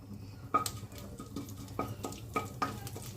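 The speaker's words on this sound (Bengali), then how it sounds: "সব মশলাগুলো একসাথে ভালোভাবে নাড়াচাড়া করে নিচ্ছি" Bay leaves, a whole dry chilli and panch phoron stirred in hot oil, a spoon scraping the pan in several distinct clinks over a faint, soft sizzle.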